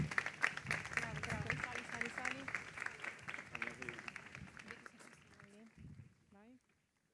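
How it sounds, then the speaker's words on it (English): An audience applauds to welcome Italian President Antonio Tajani as he arrives at an award ceremony, broad steady clapping running for several seconds with voices talking over it before it fades out. "We can say a big applause."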